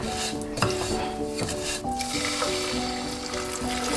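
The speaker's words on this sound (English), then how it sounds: "I will roast the savaiya in ghee along with some cashews and raisins." Vermicelli roasting in ghee with cashews and raisins in a pan, with a steady clatter of a utensil scraping and stirring against the metal and a soft sizzle underneath, close and continuous.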